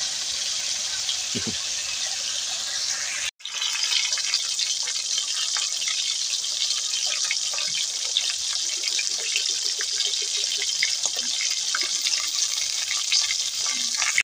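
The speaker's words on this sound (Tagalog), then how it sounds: "At sinisimulan na natin iprito yung bangos." Milkfish (bangus) frying in hot oil outdoors, a steady loud hiss and crackle that runs throughout, briefly cut off once early on.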